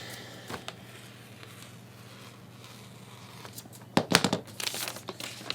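Paper shirt pattern being cut with scissors, quiet crinkling and snipping near the mic that grows into a brief burst of louder rustling and cutting toward the end.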